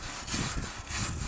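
A wire brush scrubs a stainless steel wood-burning stove in quick, back-and-forth rasping strokes, loud and close, with a steady scratchy rhythm.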